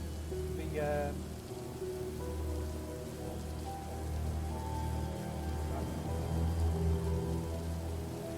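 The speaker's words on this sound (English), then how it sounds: "woken by the sound of rain and the wind still battering the town" A steady wash of heavy rain patters on surfaces during a storm over a town, a constant close hiss and drumming with a low rumble underneath, holding fairly even throughout.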